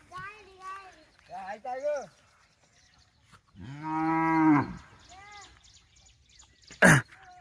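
A cow lets out a long, loud moo. Nearby voices talk before and after it, and there is a brief sharp noise near the end.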